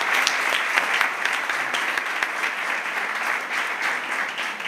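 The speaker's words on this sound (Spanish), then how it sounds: "Un aplauso para ella." Steady audience applause fills the room at a campaign candidacy presentation in Conil, dense and even from start to finish with no voices over it.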